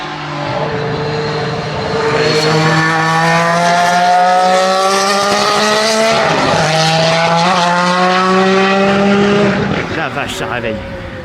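Renault race car number 441 passes on the Linas-Montlhéry circuit, its loud, close engine note rising in pitch as it approaches and sweeping down as it goes by, steady and continuous throughout.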